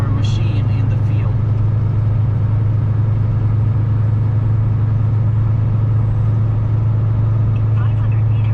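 A car drives along a road with a constant, loud, low engine rumble and tire drone, and a brief voice is faint near the start.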